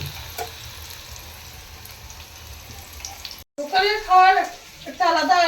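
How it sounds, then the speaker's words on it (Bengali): Chicken pakora fries in hot oil with a soft, continuous sizzle, joined by a voice talking near the end. "এদিকে শুরু হয়ে গেছে চিকেন পকোড়া"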